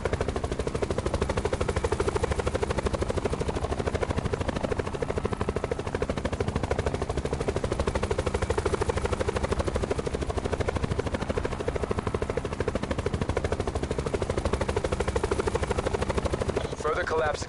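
A helicopter in the Black Ops 4 Blackout video game thrums with a constant, loud rotor pulse throughout, unbroken and close, with game sounds layered over it.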